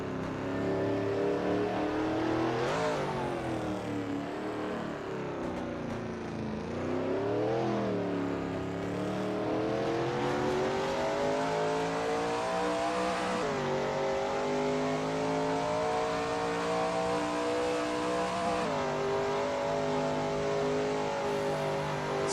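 A Shelby Mustang GT350R laps the Zandvoort circuit in a racing video game, its engine droning loud and continuous as it revs up and drops back through repeated gear changes and corners, with no talk.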